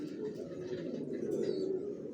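Young racing pigeon squabs cooing in a loft, a low continuous throaty murmur close by with soft overlapping coos.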